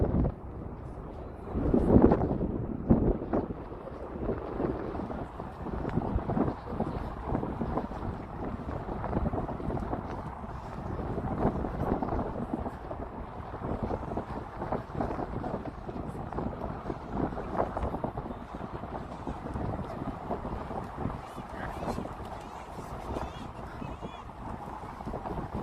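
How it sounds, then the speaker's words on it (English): Wind blows outdoors during a springtime cherry blossom walk in Washington DC. It comes as a steady, rumbling gusty wash over the microphone for the whole stretch, with faint background noise and occasional voices mixed in. "I'll just let you enjoy the wind sounds."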